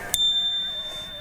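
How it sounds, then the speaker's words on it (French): A single bicycle bell on an electric mountain bike gives one bright, clear ding that rings out with a long, steady tone before fading. It is fairly quiet and heard alone. "un autre élément de sécurité que je trouve vraiment indispensable, c'est la sonnette"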